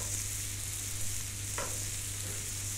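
A pasta dish sizzles steadily in a pan over the heat, with one brief scrape of stirring partway through. The frying hiss continues throughout and no voices are heard.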